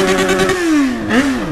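A Yamaha XJ6 motorcycle engine hums steadily at close range, its pitch drifting down and then rising briefly in a small rev before settling again, with no voices over it.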